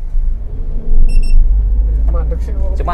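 Car accelerating toward 50 km/h with its engine revving high, a steady low rumble that swells partway through, a brief beeping tone near the middle, and voices talking over the end.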